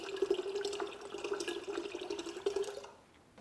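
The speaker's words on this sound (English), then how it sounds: "With one part pineapple juice, add in your coconut water." Coconut water is poured into pineapple juice for a party punch, making a steady, close liquid trickle and splash that runs for about three seconds before stopping.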